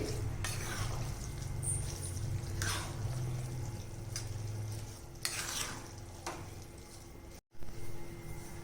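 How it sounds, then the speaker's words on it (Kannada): Cooked Maggi noodles stirred in a pan, faint repeated scraping strokes of a spoon at an unhurried rhythm over a low, soft background hum, quiet and close. "ಮ್ಯಾಗಿ ಹಾಕಿದ ನಂತರ ಈ ರೀತಿಯಾಗಿ ಚೆನ್ನಾಗಿ ಮಿಕ್ಸ್ ಕೊಡಿ"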